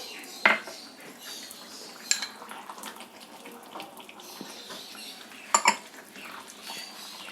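A spoon stirs paneer with garam masala in a pan, giving close, sharp metallic clinks and softer scraping. A few loud knocks stand out against a quieter, continuous shuffling background.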